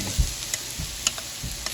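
Freeze-dried carrots and sweet potatoes fry in a pan with a steady soft sizzle, broken by a few light scrapes and clicks as they brown.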